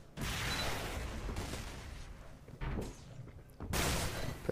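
Weapon fire in the arena shooter Xonotic on the Aerowalk map, a few loud, broad bursts separated by short gaps, fairly quiet overall.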